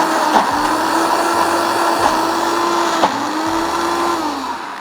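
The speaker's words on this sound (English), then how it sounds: "When you use a blender, you're gonna need a little bit more liquid." Loud, continuous whir of a blender blending dip, with a steady motor drone that dips and rises a little in pitch as the contents churn.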